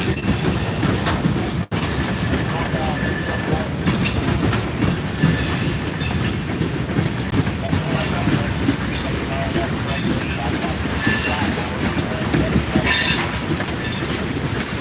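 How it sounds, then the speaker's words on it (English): A Norfolk Southern freight train rumbles past close by in Chattanooga, wheels clattering steadily over the rails with occasional squeals, a continuous loud roar throughout. "Train 167 for Norfolk Southern, terminating right here in Chattanooga."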